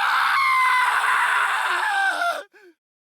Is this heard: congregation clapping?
no